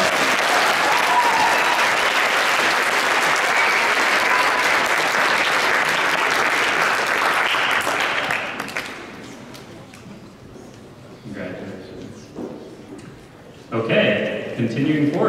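An audience applauding award winners at a science fair finals ceremony, dense clapping for about eight seconds that fades out, followed by a voice speaking.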